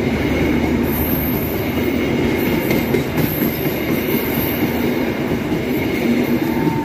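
A train hauled by a CC 206 diesel locomotive rumbles past at night, a heavy low drone with rhythmic wheel clatter and faint high squeal, steady and close throughout.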